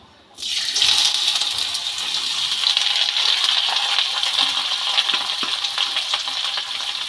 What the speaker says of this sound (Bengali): কেটে রাখা আলু আর পেঁয়াজ আমি তেলের মধ্যে দিয়ে দিলাম